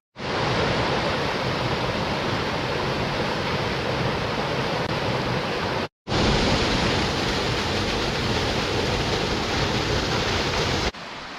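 Burbage Brook rushes through Padley Gorge in the Peak District, a loud, close, continuous wash of flowing water that cuts out briefly partway through before resuming.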